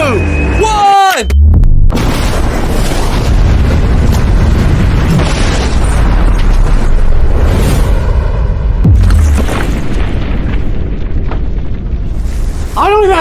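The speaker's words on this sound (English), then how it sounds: "Out of every explosion we've ever done, what you're about to see is the biggest by far. This is a real explosion." A huge blast of explosives packed around a safe, one deafening boom that rolls into a long roaring rumble and debris noise, with excited shouting afterward.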